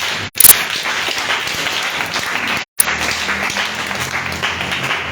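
Congregation at a church teaching service breaking into sustained applause, a dense wash of many hands clapping together with two abrupt brief cutoffs.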